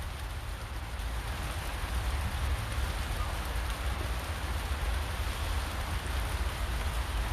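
Steady rain falls outdoors along a riverbank as a dense, continuous hiss with low rumbling texture, even in loudness and uninterrupted for the whole stretch.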